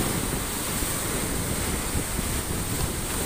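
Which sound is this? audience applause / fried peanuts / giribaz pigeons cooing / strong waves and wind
strong waves and wind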